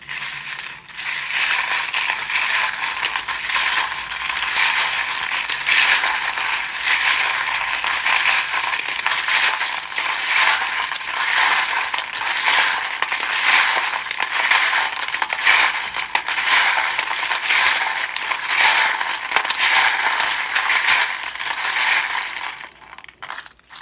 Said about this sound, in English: the rattling can be quite loud, then best to just turn your volume down while I do the shuffling